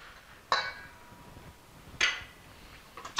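Spoon stirring vanilla into cookie dough in a bowl, with two distinct clinks of utensil against the bowl, spaced well apart, plus a third at the end over quiet, soft scraping.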